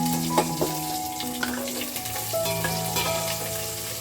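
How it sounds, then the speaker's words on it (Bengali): Chopped onions fry in ghee and oil with a close, continuous sizzle, broken by a few soft clicks of stirring and a low hum in the background. "এবার আমি পেঁয়াজ কুচি দিয়ে দিলাম"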